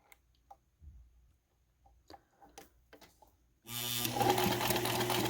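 A sewing machine stitches a scrap of fabric along a 3/8-inch seam line, starting with a sudden loud, rapid mechanical whirring buzz. Before it, a few quiet clicks and handling taps come from the machine being set up close by.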